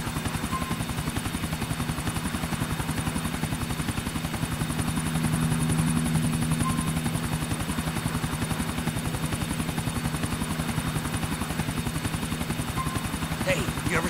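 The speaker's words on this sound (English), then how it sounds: "let's get in the chopper" Helicopter flying in Grand Theft Auto IV, a steady loud rotor drone with rhythmic blade chop throughout, continuous and close, with faint voices underneath.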